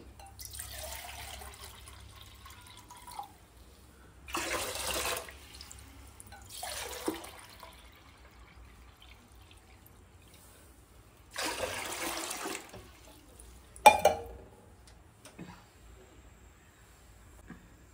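Water poured into a pot of basmati rice in a few separate bursts of splashing, each lasting a second or so, with quiet gaps between them and a short, sharper splash near the end.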